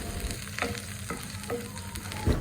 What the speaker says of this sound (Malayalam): എല്ലാം കൂടെ നന്നായിട്ടൊന്ന് വഴറ്റിയെടുക്കാം